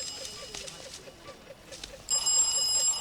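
A telephone rings indoors in a Bhojpuri family comedy scene, a faint repeating electronic ring that turns louder and brighter in the last second.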